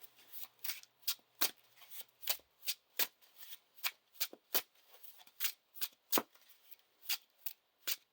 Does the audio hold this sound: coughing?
no